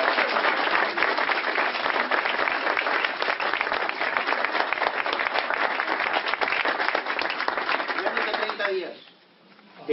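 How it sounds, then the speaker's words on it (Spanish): Loud, sustained crowd applause for Héctor and Angélica Salinas at a presentation event, dense clapping that runs steadily for about nine seconds before quickly dying away at the end. "vamos a pedirle que le den un fuerte aplauso a Héctor y Angélica Salinas"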